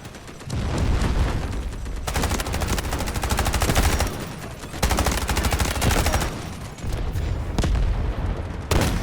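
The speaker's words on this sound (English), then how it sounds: "Launching grenade!" Gunfire in the video game Delta Force, with a grenade launched amid dense, loud rapid bursts of automatic weapons fire and booms running continuously with brief lulls.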